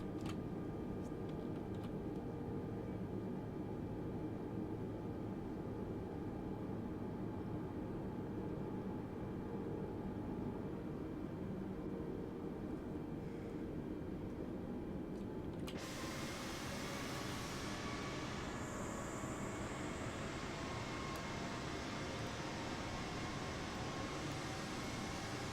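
A steady A320neo auxiliary power unit hums in Microsoft Flight Simulator, a constant broadband whine with faint tonal lines that shifts to a slightly brighter, airier texture partway through.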